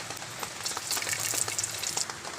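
Bay leaves and broken dried red chillies dropped into hot oil, giving a close, bright crackling sizzle with quick popping spits and a few light stirring scrapes, no speech.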